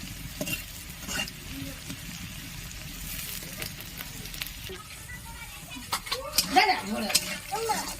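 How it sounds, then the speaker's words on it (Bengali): Onions sizzle and crackle steadily in oil in a pan with occasional stirring scrapes, and a person talks over the frying. "পেঁয়াজগুলো কিন্তু একদম লাল লাল করে ভাজা হয়ে গেছে"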